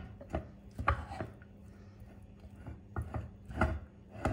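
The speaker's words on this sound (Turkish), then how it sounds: "Burada da pirinç pilavım var. Bunu bir karıştırayım." Scraping and knocking of a spoon stirring rice pilaf in a pot, in short irregular bursts with quieter stretches between.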